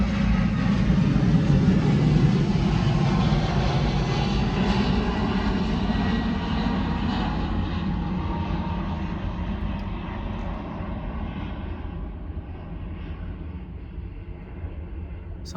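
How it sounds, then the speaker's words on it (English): Propeller or jet airplane passing overhead outdoors, a broad steady engine roar that is loudest at the start and slowly fades over about fifteen seconds, with no talking. "Anytime these planes fly over"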